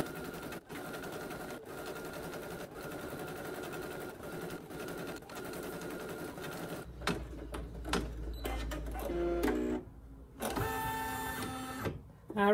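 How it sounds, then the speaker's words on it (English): Embroidery machine stitching orange letters onto fabric in the hoop for an in-the-hoop needle minder project, a steady rapid mechanical whir and clatter running throughout, with brief gaps and a change in pace near the end. "Now we're going to stitch the sewing side letters out."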